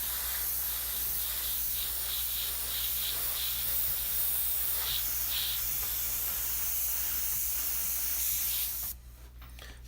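An airbrush sprays thinned paint in a loud, steady hiss with a low hum underneath, carrying on for several seconds before cutting off near the end.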